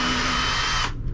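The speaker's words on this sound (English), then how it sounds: "let me take these screws out" A power drill whirs steadily at close range while backing screws out during a repair on a Cedar Creek 38EBS RV, then cuts off abruptly near the end.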